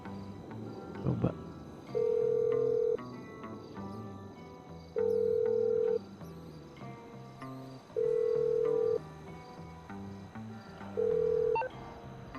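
A telephone rings in GTA V, four evenly spaced tones about three seconds apart, each lasting roughly a second, with faint game sounds and brief speech under it.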